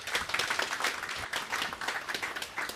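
An audience applauds at an urban mobility summit in Cape Town, with steady, dense clapping from a crowd that continues throughout at moderate loudness.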